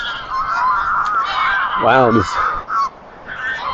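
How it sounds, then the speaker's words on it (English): Geese by the river at Kelso in the Scottish Borders honk at each other in one loud, close, quickly repeated call midway, with a person's brief exclamation over a breezy outdoor background. "there's lots of geese all shouting at each other."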